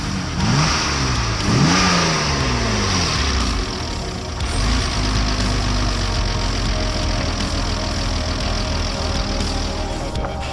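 A BMW E30 drift car engine revs loudly up close, with a couple of sharp rising revs early on, then settling into a steady rumbling idle with light throttle blips and no talk.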